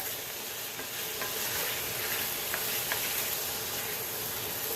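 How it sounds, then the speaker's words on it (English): Chicken stir-frying in a pan, with a steady dense sizzle and hiss throughout and a few faint clicks of stirring, close and continuous, with no voices. "Now we're just going to start cooking it like a stir fry."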